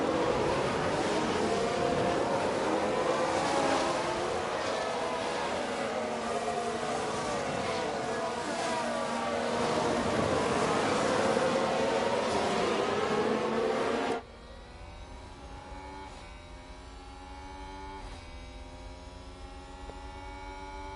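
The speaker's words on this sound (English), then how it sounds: "the car sounds exactly the same despite running with a Ferrari engine" A Formula 1 car with a Ferrari power unit races in the F1 Manager 22 video game, a high, buzzing engine whine with shifting revs, loud and close, then dropping abruptly to a quieter, thinner drone.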